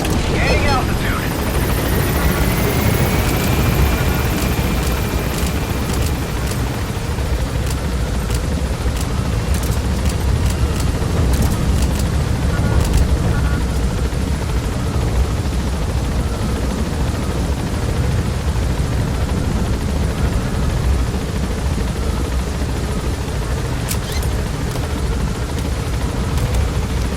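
A helicopter in Metal Gear Solid V climbs, its rotor and engine making a steady, loud broadband roar for the whole stretch, with a brief rising whine near the start.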